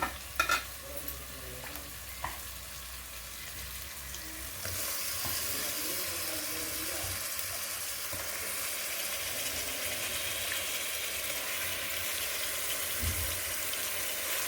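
Chicken frying in a pan for chicken curry, giving a steady, even sizzle that jumps louder partway through and then holds, with a few faint knocks early on.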